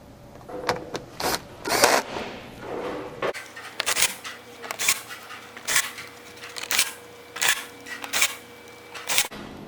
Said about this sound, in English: Go ahead and install all 8 bolts.